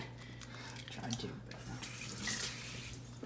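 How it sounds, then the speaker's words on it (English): Tap water runs into a sink as egg is rinsed off hands, a faint, steady splashing with brief louder gushes, heard quietly at a distance. "rinsing hands from egg"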